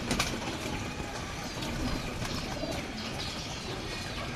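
Soft pigeon coos repeat under a steady, noisy outdoor background, with faint chirps and occasional flutters nearby.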